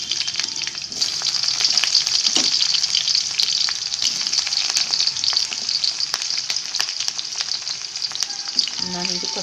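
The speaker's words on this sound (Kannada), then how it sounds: "ಸಾಸಿವೆ ಆಗಿದೆ, ಈರುಳ್ಳಿ ಹಾಕ್ತಾಯಿದ್ದೀನಿ." Onion frying in hot oil with mustard seeds, a loud steady close sizzle with crackling pops throughout and a few stirring scrapes toward the end.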